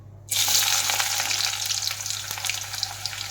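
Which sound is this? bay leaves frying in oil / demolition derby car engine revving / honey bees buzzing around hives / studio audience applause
bay leaves frying in oil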